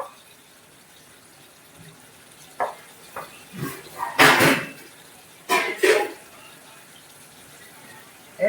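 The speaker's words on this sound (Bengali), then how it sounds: "এবার জল দিয়ে দেবো।" Water is added to a hot pan of rohu fish curry, with a few short hissing splashes and sizzling bursts clustered in the middle, separated by quiet stretches.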